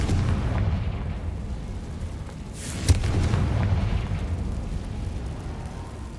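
A Confringo spell explosion from Hogwarts Legacy rolls out as a deep, rumbling burst with a sharp crack partway through, leaving a low, continuous roar that fades slowly.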